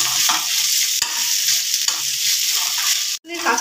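Ginger and garlic paste frying in a pan, a loud continuous hissing sizzle with stirring scrapes, close up, cut by a brief dropout near the end.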